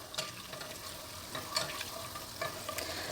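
Butter melts in a pan with a soft, continuous sizzle and fine crackling pops, faint and close, with no one talking over it.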